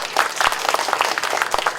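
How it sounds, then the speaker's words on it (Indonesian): An audience at a local community government event in Bandung applauds, a short burst of dense, lively clapping from many hands, fairly loud and close, with no talk over it. "Tepuk tangan untuk beliau."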